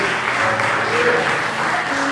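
A church congregation at an evening worship service claps together, a brief, steady wash of many hands at moderate loudness.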